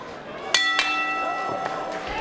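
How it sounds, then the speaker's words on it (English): A round bell at an MMA event sounds in a few short metallic dings amid crowd noise and a commentator's talk. "Bell sounds, and we've got 1 round to go"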